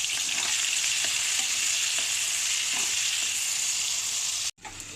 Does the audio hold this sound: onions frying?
yes